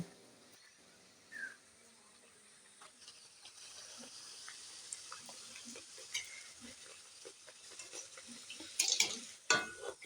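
Palm-fruit luchi sizzle and puff in hot oil, a soft steady frying hiss with occasional stirring clinks and a few louder crackles near the end.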